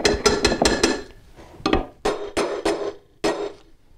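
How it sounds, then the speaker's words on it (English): A hammer strikes a pull bar hooked onto basement subfloor tile to close a joint, giving sharp close knocks: a fast run of four or five, then scattered single and paired hits. "this bar will do is it allows me to hook in there and hit my hammer on here to close up this joint"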